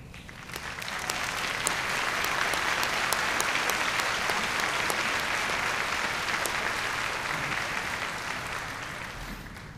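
A commencement audience at Limestone College gives sustained, dense applause to faculty standing on stage, many hands clapping at an even, loud level for nearly ten seconds before tapering slightly at the end.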